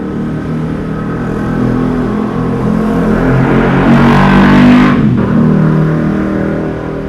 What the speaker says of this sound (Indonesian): Ini mohon maaf kalau misalkan terdengar suara-suara motor ya.